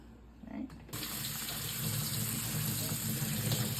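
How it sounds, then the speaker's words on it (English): A kitchen tap turns on and runs steadily while sugar snap peas are rinsed under it, the stream hissing close by and continuously after a brief quiet start. "you just need to run it through water a little bit"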